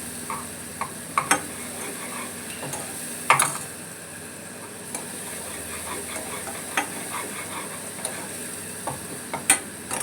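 Onions frying and being stirred in a pan, cooked lightly so they soften without browning, with a steady sizzle under scattered clicks and scrapes of the spoon against the pan, close and moderately loud with no talking.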